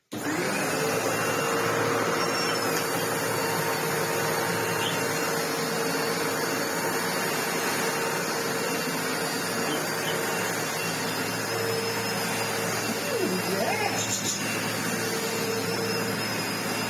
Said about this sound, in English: I wonder if this is going to be one of those rare Sebos that likes the rug.